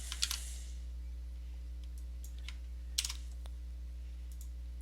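Quick bursts of typing on a computer keyboard, close and quiet: a short flurry of key clicks at the start, another cluster partway through, then scattered single taps over a steady electrical hum.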